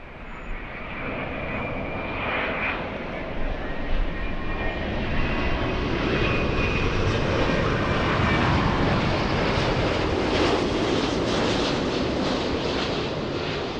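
A jet from an Italian flight rumbles past at LAX, a steady broadband roar with rising whine holding loud and fairly near throughout, with no voices.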